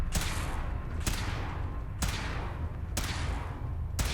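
Four evenly spaced, powerful weapon blasts, each with a long decaying tail, fired during a power armor test in Fallout 4 over a steady background rumble.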